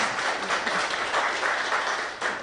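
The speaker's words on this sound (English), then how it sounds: "could I request for a round of applause for Dr. Jane and team?" Audience applause at a national forestry technology and innovation conference, a steady wash of clapping that holds for a couple of seconds before easing off slightly, with no voices over it.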